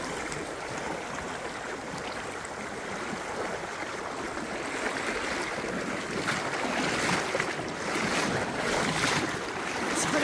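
Strong current of Wilson Creek in the Sierra Nevada rushing steadily during a thigh-deep crossing on a drizzly, chilly day, a broad continuous wash of water with some wind buffeting the microphone, swelling slightly louder toward the end.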